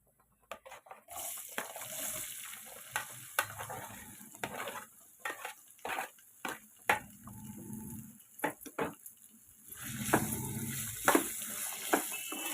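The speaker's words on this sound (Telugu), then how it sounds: "ఇప్పుడు దీంట్లో బంగాళదుంప ముక్కలు వేసుకుందాం" Potato pieces drop into hot oil for a Telugu-style potato fry and sizzle. Soft crackles and irregular clattering stirs come up close at low volume, with a brighter burst of sizzling near the end.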